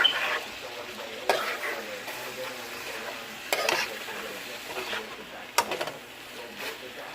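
Shrimp fry in a pan for Guinea-style shrimp while being stirred, a low steady sizzle broken by a few sharp utensil scrapes and clacks spaced through the stretch.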